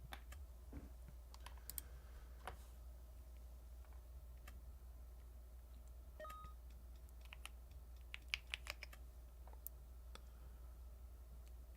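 Quiet clicking of a computer keyboard as someone types in an online chat, scattered keystrokes growing denser toward the end over a steady low hum.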